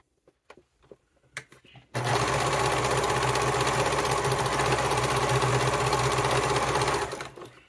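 After a few soft handling clicks, a sewing machine runs steadily for about five seconds top-stitching a fabric wallet, a fast even whirring hum close by, then winds down and stops.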